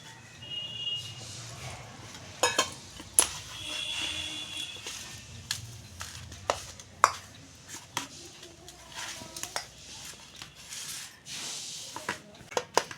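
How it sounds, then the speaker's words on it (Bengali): Flour-and-oil dough for gaja sweets is kneaded by hand as small splashes of water are worked in, giving soft irregular squelches, pats and slaps close up against a quiet background. "অল্প অল্প জল দিয়ে আমি মাখবো।"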